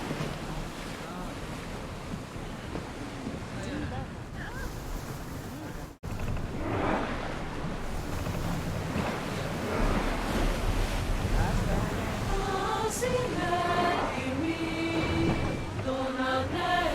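Sailing ship at sea in Assassin's Creed Odyssey: steady ocean surf and gusting wind roar continuously, with a brief dropout partway through, and bright game chimes near the end.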